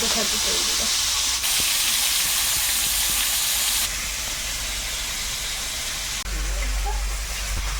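Kan fish from the Sundarbans frying in hot oil, a loud continuous hissing sizzle that shifts in intensity, heard close and steady.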